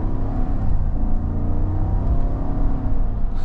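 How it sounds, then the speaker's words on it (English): A 2025 GMC Yukon Denali Ultimate with a 6.2-litre V8 accelerates, a deep, steady engine rumble heard from inside the cabin with a low, muted hum that gently rises. "I love that nice V8 rumble"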